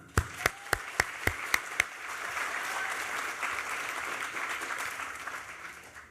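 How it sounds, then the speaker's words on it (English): Sustained audience applause at an evening awards ceremony for nonprofit finalists in New York City, opening with a few sharp, distinct claps that quickly swell into a steady, moderately loud wash of clapping from a sizable crowd, then gradually tapering. "these finalists, to me, deserve one more round of applause"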